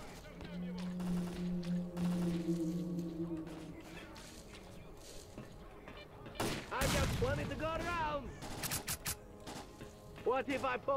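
A battle in the shooter game S.T.A.L.K.E.R.: Clear Sky brings scattered gunfire cracks and short bursts, with a sharp loud volley near the middle and further shots toward the end. Someone talks over parts of it.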